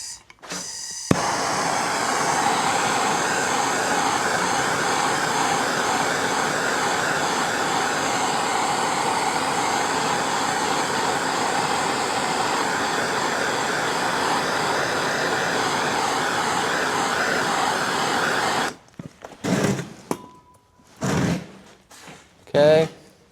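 A heat gun blows a steady, loud airy whoosh with a faint whine while shrinking heat shrink tubing over wires on a 2015 GMC Sierra. It cuts off near the end, followed by a few short knocks and handling noises.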